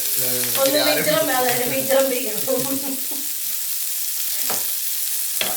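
Mandeli fish coated in rava sizzles and crackles as it fries in hot oil, a steady hiss running throughout, with a person talking over it at first before the sizzle continues alone.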